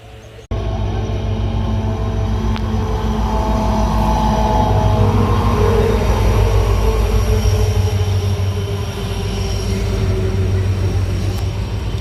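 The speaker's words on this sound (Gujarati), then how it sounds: "મિત્રો આપણી ટ્રેન આવી ગઈ છે" A train pulls into Mithapur railway station, its heavy low rumble and rolling wheel noise starting abruptly and holding steady and loud throughout, with faint metallic squeaks above.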